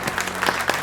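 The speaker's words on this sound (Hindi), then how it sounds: "A very big round of applause" Brief applause from an audience at a panel event on building an AI venture, a steady patter of clapping lasting under a second with no talk over it.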